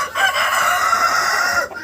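Cochin chickens cluck and call close by in a short burst of sound, with no talking.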